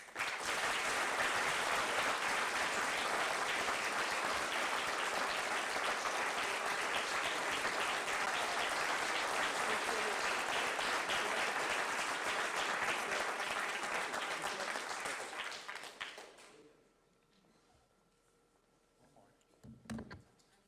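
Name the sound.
audience applause for award winners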